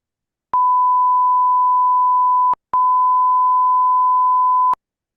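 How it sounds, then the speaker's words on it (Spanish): Two sustained pure test tones sit just 10 cents apart in pitch, each held about two seconds and played one after the other with a brief gap, loud and alone. "Ahora voy a hacer una separación de tan solo 10 cents y"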